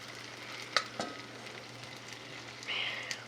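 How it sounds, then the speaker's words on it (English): Green onions frying in a frying pan give a soft, steady sizzle with a few light clinks and taps of utensils, fairly quiet and close, with no talk. "We're back to putting our green onions in our frying pan."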